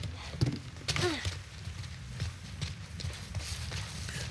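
Horse hooves clip-clop in The Last of Us: Left Behind video game, a few soft irregular hoof knocks early on, then fading into a faint rustling ambience.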